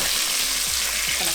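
Chicken pieces for a Nashville hot fried chicken sandwich frying in oil, a loud, steady, close sizzle and crackle that fills the whole moment without pause.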